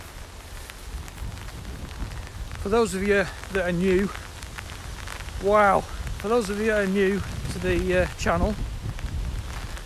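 Rain just beginning to fall outdoors, a steady broadband patter and hiss running throughout beneath someone speaking in the foreground.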